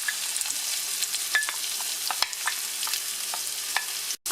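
Sliced medium red onions sautéing with garlic and ginger in a pan for bitter melon masala sabji, a steady, fairly quiet sizzle dotted with crisp crackles and pops, with a brief dropout near the end.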